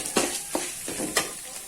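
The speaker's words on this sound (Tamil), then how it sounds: "பூண்டு அந்த பச்சை வாசனை போகிற அளவுக்கு வதக்கினாலே போதும்." Crushed garlic with its skin on sautés in a pan, giving a soft sizzle broken by a few quiet scrapes of stirring.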